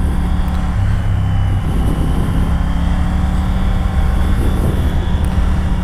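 A 2020 Triumph Tiger 900 GT Pro motorcycle rides in sport mode, its engine producing a loud continuous drone mixed with steady wind rush.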